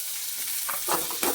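Onions sautéing in a pan with curry leaves for a beetroot poriyal, a steady close sizzle and frying hiss with stirring bursts near the end.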